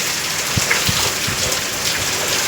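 Heavy rain pours down hard and constantly amid strong wind, with a few dull low thumps underneath, as floodwater enters a house.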